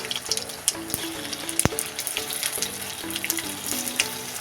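Semolina snack batter frying in hot oil, a steady close crackling sizzle with scattered pops and a brief clink of a utensil.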